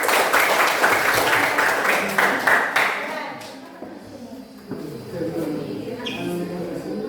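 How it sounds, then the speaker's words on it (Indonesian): A classroom audience claps in a burst of brisk, dense applause for about three seconds before it thins out and a voice begins speaking. "Ya, berikan aplaus untuk"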